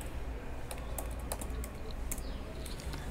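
Fingers type on a computer keyboard in quick, uneven bursts of close, crisp key clicks against a low background hum.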